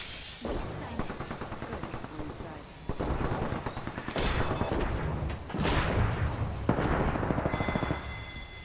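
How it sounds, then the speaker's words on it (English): Incoming artillery strikes in a video game land as a series of heavy booms and crackling blasts with bursts of gunfire between them, loud and near, while players' voices talk faintly in the background. "Incoming artillery."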